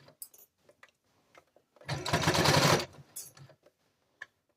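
Sewing machine stitching a neckband onto a sweatshirt runs in one short burst of about a second, set among quiet clicks and handling taps before and after.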